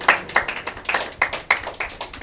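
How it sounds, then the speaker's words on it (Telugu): A church congregation clapping hands in a steady rhythmic beat, with sharp, close claps repeating evenly at a brisk pace and no talk. "చప్పట్లు కొట్టండి"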